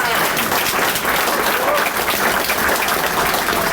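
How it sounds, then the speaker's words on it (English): An audience at a sports hall of fame ceremony in a hall claps steadily, a dense, even wash of applause lasting several seconds, with voices faint underneath. "Give them a round of applause."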